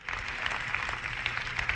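A church congregation bursts into applause during a sermon, a dense, steady wash of many hands clapping at moderate distance for a couple of seconds with no talking over it.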